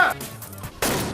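A gunshot in a Bollywood crime thriller film, two sharp bursts of noise, one at the start and a louder one near the end, with a low murmur in the quiet gap between them.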